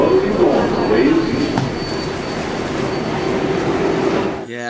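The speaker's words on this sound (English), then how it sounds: "I hope that riding the New York subways is on everyone's to-do list" A New York City subway train runs in a loud, steady roar of wheels and motors, with a constant high tone running through it, filling the whole stretch before cutting off abruptly at the end.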